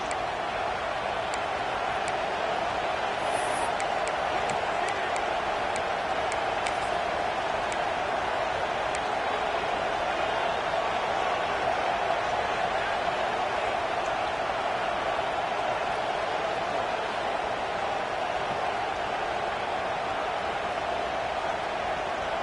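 Dense, continuous roar of the home crowd at a Badgers stadium in a college football video game, sustained and fairly loud with faint ticking clicks scattered near the start.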